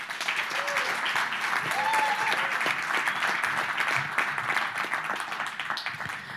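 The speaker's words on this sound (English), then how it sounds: "Big round of applause, please, for Aziz Wadi" An audience at an innovation and crisis-response event in Berlin applauds steadily throughout, a dense wash of clapping with faint voices mixed in.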